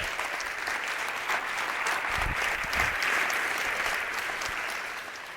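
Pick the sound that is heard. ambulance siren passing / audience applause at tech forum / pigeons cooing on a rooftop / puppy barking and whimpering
audience applause at tech forum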